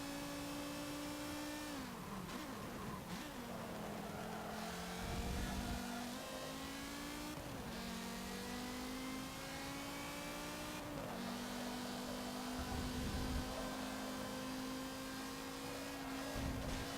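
In Forza Motorsport 7, a race car's engine revs hard through repeated upshifts, each pitch climb dropping back at the gear change, loud and continuous with no talk.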